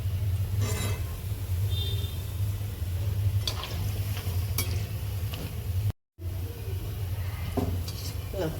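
Moong dal vada fry in oil in a pan with a continuous low sizzle, broken by clinks of a metal utensil against the pan and one brief dropout partway through.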